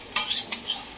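A spoon stirs a sizzling curry-style jhol made with a ground paste of black cumin, whole cumin and puffed rice, scraping the pan in a few quick strokes over a steady frying hiss.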